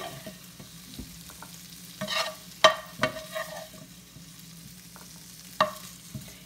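Shrimp stir-fried with vegetables, cashews and sauce for black pepper shrimp, with a soft, steady sizzle under sharp intermittent scrapes and knocks of a utensil against the pan, close and without talk.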